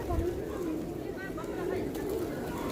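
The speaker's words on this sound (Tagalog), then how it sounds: "ang daming kalapati dito" Pigeons coo softly in low, rolling calls at a Buddhist stupa in Nepal, beneath a steady murmur of background noise, with a voice present in the mix.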